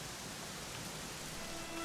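Dense, even rainfall hisses throughout in Dragon Quest 11, a close, continuous wash of falling rain with no speech over it.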